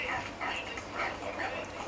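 Dogs in the video game Assassin's Creed 3 give repeated short barks and yips in a steady rhythm across the moment, moderately loud against continuous game ambience.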